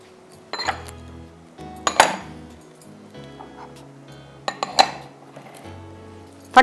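A marinade of coriander, mint and green chilli is stirred in a bowl, with a spoon knocking and scraping against the sides in a few sharp clinks amid quieter mixing.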